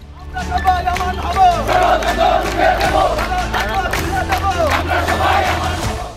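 A protest march crowd fills a Dhaka street with continuous loud, massed shouting and rhythmic chanting, many voices blending into a dense, steady roar throughout.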